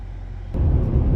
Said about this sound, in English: now we are driving this 2023 Chevy Silverado 1500 Trail Boss Z71 four-wheel drive LT truck